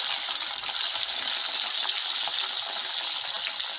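Chopped onions hit hot oil in a pan already seasoned with salt and spices, giving a steady, loud, close sizzle that hisses without pause.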